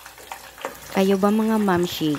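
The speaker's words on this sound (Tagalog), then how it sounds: "Grabe yung tunog ng mantika nito," Pork lechon kawali frying in a small pot with a little oil: a steady hiss and crackle that runs under a woman's nearby chatter for most of the clip.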